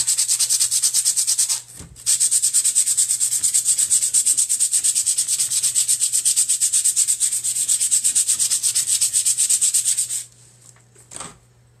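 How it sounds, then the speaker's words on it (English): A power sander fitted with 150 grit sandpaper works over a sign in a loud, steady, buzzing whir, briefly pausing once near the start, then running on for several seconds before cutting out, followed by a few faint knocks. "This is 150 grit, but you can use 120, 150, whatever. So I'm just going to sand it off."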